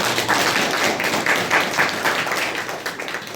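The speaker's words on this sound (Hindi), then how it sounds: "तो एक अच्छा ताली बजाएं प्रभु के लिए।" An audience at a church gathering claps together, a dense and steady burst of applause that stays loud for a few seconds and then begins to thin slightly, with no speech over it.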